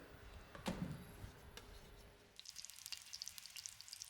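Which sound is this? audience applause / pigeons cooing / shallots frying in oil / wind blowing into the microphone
shallots frying in oil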